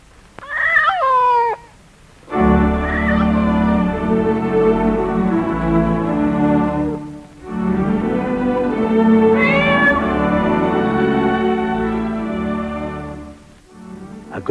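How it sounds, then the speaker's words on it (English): A cat meows loudly and up close in long, drawn-out wailing calls, separated by short pauses, with no other sound around it. "That damned cat."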